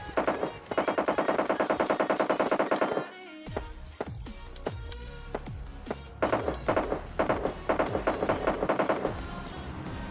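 Machine-gun fire in PUBG, long rapid automatic bursts with sharp single shots and pauses between them, loud and close with no talking.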